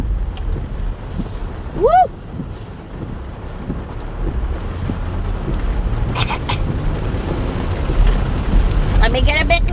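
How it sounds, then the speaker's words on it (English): A squall strikes a boat: gusting wind buffets the microphone over a constant wash of rain, loud and close. A man lets out a brief whoop partway through. "Have a little squall here. A little squall."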